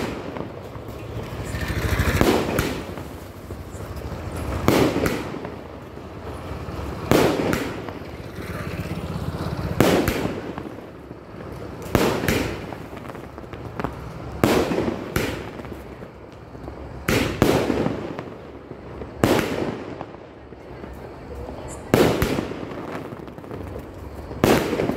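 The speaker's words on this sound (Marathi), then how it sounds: "तर आम्ही अशा प्रकारे मस्तपैकी फटाके फोडले भाऊबीजेनंतर सर्वांनी" Firecrackers bursting outdoors at night after a Bhaubeej celebration: a long series of loud sharp bangs, some close and some farther off, at irregular intervals over a crackling background.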